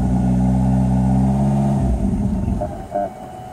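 A Mitsubishi DSM 2G engine on a cold start with the idle air valve deleted, held at slight throttle, runs as a loud, steady rumble up close that drops off and sputters near the end.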